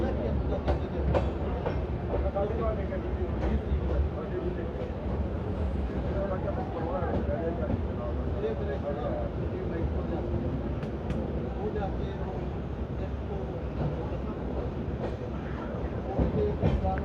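A passenger train rake rolls past on its way to a washing line, a continuous loud rumble with wheel clatter and clicks throughout, with people talking over it.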